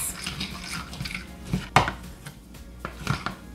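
Keto streusel topping mixed by hand in a bowl, with scraping and clinking of a utensil against the bowl in irregular strokes, one sharper knock standing out, fairly close.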